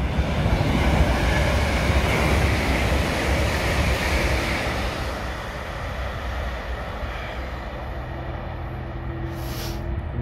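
A train passes close by in Wolverton, Milton Keynes, with a loud, broad rumble that is strongest at the start and then fades steadily over about ten seconds, with no talking.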